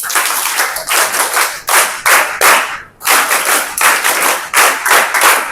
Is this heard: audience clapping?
yes